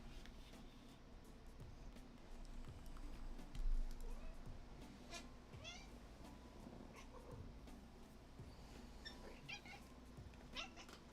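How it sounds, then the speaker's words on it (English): An orange cat meows several times at low level over a steady background hum and clutter from a Pokemon Blue game session, with no talking. "Orange cat."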